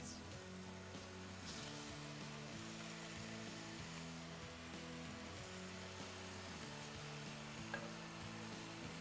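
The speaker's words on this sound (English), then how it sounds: "add bacon to a cast iron skillet. And you just want to crisp it up." Bacon sizzling and crackling steadily in a cast iron skillet, a continuous close frying hiss with a scrape or two of stirring, no voices.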